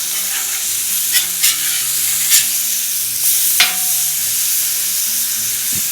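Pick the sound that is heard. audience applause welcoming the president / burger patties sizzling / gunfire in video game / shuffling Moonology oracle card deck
burger patties sizzling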